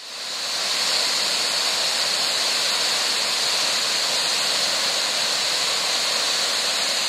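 Constant roaring rush of falling water at Sombrun waterfall on Manus, loud and close, a steady unbroken wash of sound with no voices.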